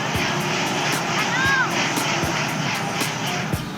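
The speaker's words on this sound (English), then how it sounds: "Those motors sound really, really unhappy." Model airplane motors at a fly-in festival straining with a rough, buzzing propeller drone that holds steady and loud throughout, with brief clicks and thumps and some background voices.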